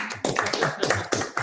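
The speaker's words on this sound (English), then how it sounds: "I think we should just throw another round of applause for Sebastian and Tanny." A few people clapping at the end of a podcast episode, sparse and close, with distinct uneven claps in a loose rhythm over a second and a half.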